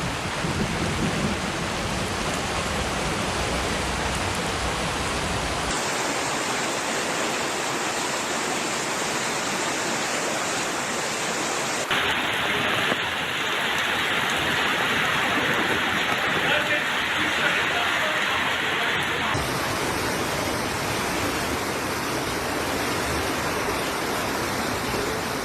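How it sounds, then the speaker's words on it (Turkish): Heavy rain pours during a Mediterranean winter storm flooding a town square in Turkey, with water gushing from a fountain like a waterfall; a dense, steady roar of rushing water and downpour fills the scene throughout, loud and continuous. "o kadar bir yağmur yağıyor ki çeşmenin içinden gelen resmen şelale oldu"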